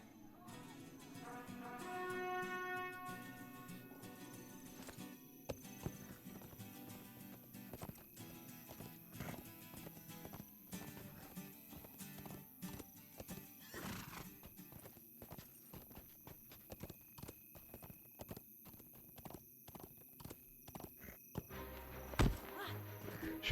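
A horse mount in the online game Lord of the Rings Online whinnies near the start, then its hooves clip-clop in a steady walking rhythm, fairly quiet, with occasional game sounds over it.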